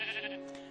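A sheep gives one short, close bleat.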